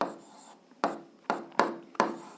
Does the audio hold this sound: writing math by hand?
yes